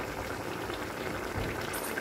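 Fish curry boiling in a pot, a soft, dense bubbling simmer that stays steady and close throughout, with no voices.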